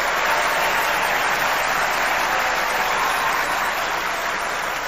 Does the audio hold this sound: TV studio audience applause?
yes